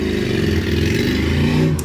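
A motorcycle out on the road on a nice day makes a loud, steady engine drone with a deep throbbing rumble, close by and continuous, without speech.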